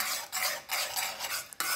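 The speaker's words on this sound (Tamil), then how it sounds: "இது நல்லா மிக்ஸ் பண்ணிவிட்டு 2 நிமிஷம் கொதிக்க விட்டுக்கலாம்." A spoon stirs payasam in a cooking pot with repeated scraping, swishing strokes in an uneven rhythm, close up and alone.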